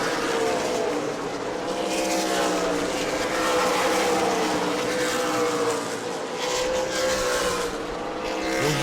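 Super late model race cars lap the New Smyrna track in a green flag race, a continuous loud roar of engines with shifting pitch as cars pass, steady throughout with no audible speech.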